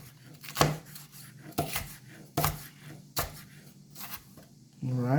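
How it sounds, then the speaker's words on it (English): Knife julienning vegetables on a cutting board for a salad in a home kitchen, a few sharp, spaced chopping strikes alongside frying chicken nuggets, with a voice briefly at the end. "I'm just going to julienne them"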